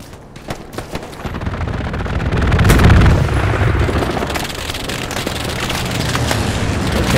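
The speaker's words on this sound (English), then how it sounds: "that machine gun sounds really strange" Machine gun fire in a World War II shooter game, with bursts and booms building to a loud rumbling peak midway and continuing steadily as nearby gunfire, with no talk.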